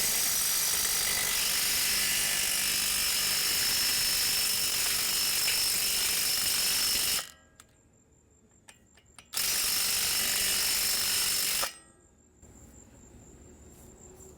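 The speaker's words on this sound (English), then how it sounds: "Now we're gonna remove the axle nut, and just to show you, using regular impact wrench" Impact wrench working on the 30mm axle nut of a 2002 Toyota Camry, a loud continuous rattling hammer that runs for several seconds, stops, bursts again briefly, then cuts off, close up with no talk.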